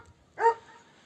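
A single sharp dog bark rings out once in an otherwise quiet moment, fairly close and short, on a snowy farm near a newborn calf.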